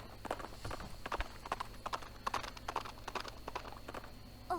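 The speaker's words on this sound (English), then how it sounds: "A horse." Hoof clip-clops from a horse in the I Spy Spooky Mansion video game, a quick irregular series of close, crisp hoofbeats with a faint hum beneath and no talking.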